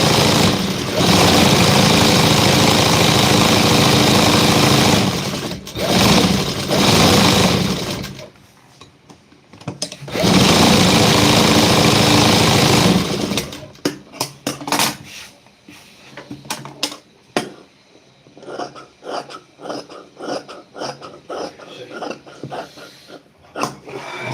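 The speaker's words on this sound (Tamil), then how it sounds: "துணி தைச்சிக்கிட்டு இருக்கிறேன்" A sewing machine stitches cloth in long, loud continuous whirring runs, then stops and gives way to short intermittent bursts and clicks as the fabric is adjusted.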